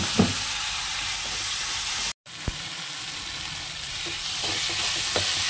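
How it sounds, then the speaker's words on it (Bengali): Steady sizzling of spice paste frying in a hot pan with sugar and a little hot water, with a few soft scraping stirs and a brief cut to silence partway through. "একটুখানি মশলাটা কষানোর সময় চিনি, একটু জল দিয়ে দেবো।"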